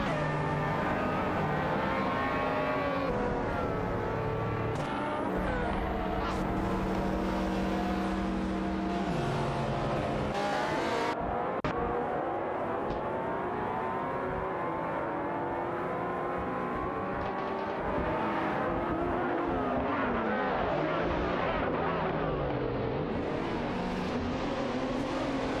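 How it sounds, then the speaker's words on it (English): Race cars, a Porsche Cayman and a Mazda, in a racing video game: engines rev and whine loudly and continuously, pitch sweeping up and down through gear changes as the cars pass and accelerate, with no talk. "Both drivers are pushing hard in their Porsche Cayman DT4 and Mazda MT900"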